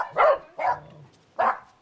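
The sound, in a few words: small pet dog barking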